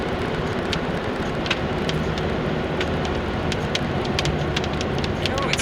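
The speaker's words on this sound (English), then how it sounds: "oh, it's raining, y'all." Rain falls steadily and fairly loudly outdoors at night, a dense hiss with scattered sharp drop impacts throughout.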